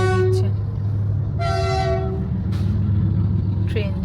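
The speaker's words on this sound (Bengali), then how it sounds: "ট্রেন যাচ্ছে, মালগাড়ি যাচ্ছে এখান দিয়ে।" Freight train passing near the NH12 highway near Farakka: a continuous low rumble of rolling wagons with several horn toots and honks of vehicles on the road, heard from a car.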